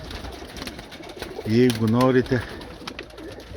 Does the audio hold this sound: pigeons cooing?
yes